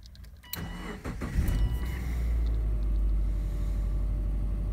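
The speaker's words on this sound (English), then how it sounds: "Let's see what she does when I start up the car." A car engine with a weak battery cranks briefly, catches, and settles into a steady low idle rumble, heard up close.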